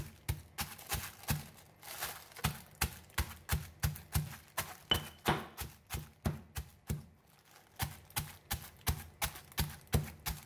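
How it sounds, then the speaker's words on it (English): Fresh turmeric is pounded with a pestle in a mortar, the root wrapped in a plastic bag, giving a steady run of sharp close thuds in a regular rhythm with a brief pause near the end. "Pound until it breaks up into small pieces."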